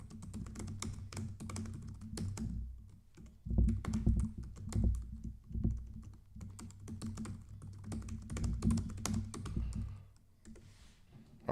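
Steady, close-up typing on a computer keyboard, a fast run of clicking keystrokes with brief pauses, over a low constant hum and no talking.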